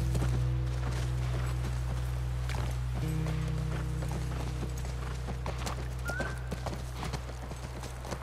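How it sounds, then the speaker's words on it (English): Horse hooves clip-clop in a steady galloping rhythm in The Last of Us Part II, over a low constant engine-like drone of background game sound. "Go, horsey, go."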